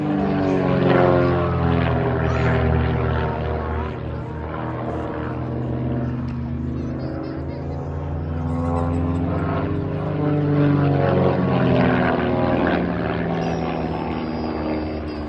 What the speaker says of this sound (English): Today the team is flying the Vans RV8, and it is a kit-built, home-built machine, powered generally by a 180 to 200 horsepower light engine